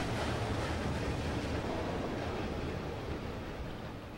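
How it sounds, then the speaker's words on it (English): Water rushes in to fill a factory chamber in the video game Limbo, a loud, steady broadband roar that eases slightly toward the end. "That starts filling with water."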